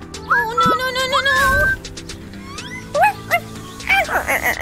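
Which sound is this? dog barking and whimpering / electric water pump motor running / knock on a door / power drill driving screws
dog barking and whimpering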